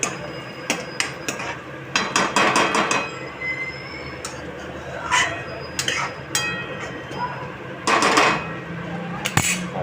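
Stirring and sautéing in a metal cooking pan, with repeated sharp clinks and scrapes of a utensil against the pan in irregular bursts over a steady sizzle, close and fairly loud.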